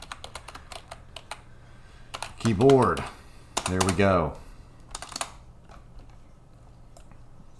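Typing on a computer keyboard during a gaming session, with steady light key clicks running through the whole stretch under a man's brief speech.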